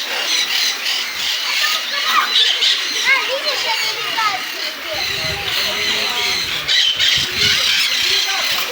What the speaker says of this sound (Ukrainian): Тут птицы летают.